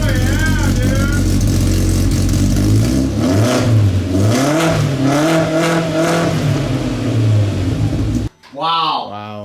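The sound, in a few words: Polaris RZR Pro R revving with aftermarket Assassin exhaust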